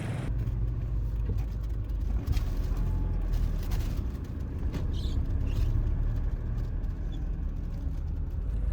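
A local's car rides along a road in Laos, its engine giving a steady low rumble with road noise under it, continuous and close, with no talk.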